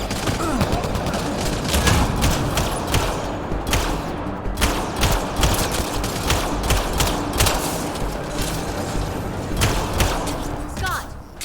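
Sustained gunfire in Mass Effect Andromeda, dense overlapping bursts and sharp single shots with thuds running throughout, loud and close, with voices mixed into the battle.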